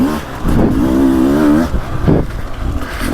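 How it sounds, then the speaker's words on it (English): Engine of a 2024 Beta 300 Race Edition two-stroke dirt bike on a woods loop, loud and close, revving and holding a buzzy tone, then easing off and picking up again. "this might be the best running 300 engine I've ever ridden"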